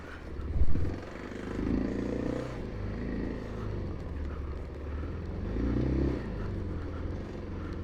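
A Kawasaki KLX 300 dual-sport motorcycle putters along slowly off-road, its engine idling and revving gently at low speed with a brief bump and clatter near the start.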